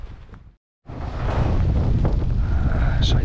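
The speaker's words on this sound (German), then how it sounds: "Scheiß Wind." Strong wind buffets the camera microphone outdoors at an abandoned military training ground, a loud, continuous low rumble that cuts out briefly near the start, then returns and persists.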